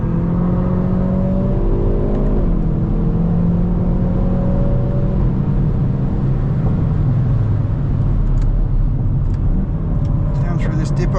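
Hyundai hot hatch, i20 N or i30 N, pulling hard on the Nurburgring, its engine note climbing through the gears in steady rising sweeps under constant loud wind and tyre roar, close and continuous with a voice talking over it.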